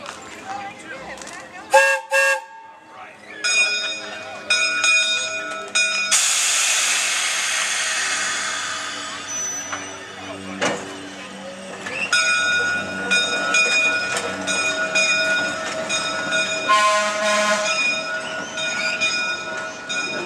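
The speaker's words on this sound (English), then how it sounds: "This is a much larger freight locomotive. This is Pacific Electric 1624." Pacific Electric 1624 freight locomotive rolling past in a trolley parade, with loud sustained wheel and rail noise, strong whistle-like squealing tones and a horn-like blast, heard close up throughout.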